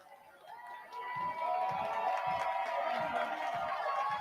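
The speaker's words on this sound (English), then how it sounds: "Hear the crowd." A faint, distant murmur of cheering rises from a minor-league baseball crowd during a night game, swelling after the first second and holding steady, with scattered voices and a thin tonal sound mixed in.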